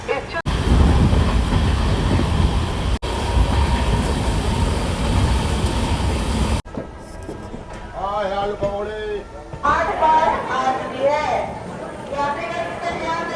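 Amrit Bharat Express train departing Patliputra Junction in Patna, with a loud rumbling roar of wheels on rails for the first half, then quieter cabin noise as someone talks nearby.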